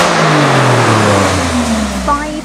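An Alfa Romeo Quadrifoglio with an all-aluminium 2.9-litre V6 revs up loudly nearby, its engine note climbing steadily in pitch before easing off at the end.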